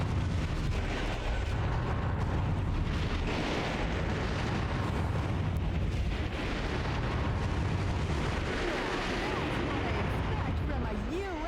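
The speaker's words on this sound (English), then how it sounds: "Go crazy with missiles!" Continuous rumbling missile explosions and booms fill the scene in the mech action game Metal Wolf Chaos XD, loud and dense throughout, with a voice briefly speaking over the din.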